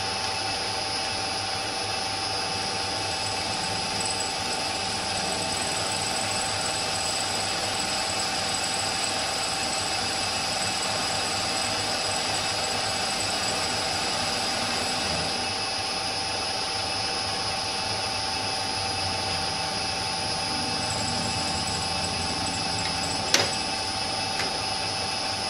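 A metal lathe taking a twenty-thousandths cut runs with a steady high whine and even cutting hiss, close and continuous, with one sharp click near the end.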